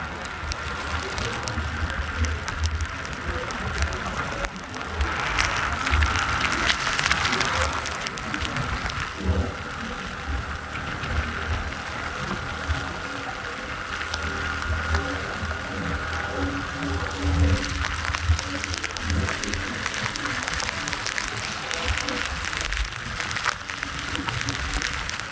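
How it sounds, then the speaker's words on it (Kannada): Heavy rain pours steadily on a motorbike trip from Sagara to Sigandur, making a dense, continuous hiss that stays loud and even throughout with no clear breaks. "ಸಿಕ್ಕಾಪಟ್ಟೆ ಮಳೆ ಗುರು"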